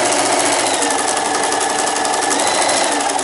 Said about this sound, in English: Here, we're going to do our top stitching.